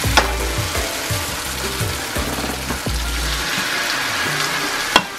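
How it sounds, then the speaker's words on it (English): Thin Vietnamese pancake batter fries in a hot pan, a continuous sizzling crackle broken by a few scraping and tapping knocks as it is spread, close and with no talking. "And then we're ready to pour in our batter."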